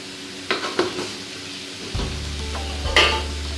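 Food frying in a pan at a bachelor-room fish biryani cook, with a few utensil scrapes and clinks of stirring over a steady low sizzle, close and moderately loud.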